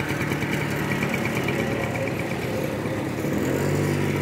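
A two-wheeler engine running steadily during a driving lesson in Madurai, a constant mid-pitched hum close by with little change and no talk over it.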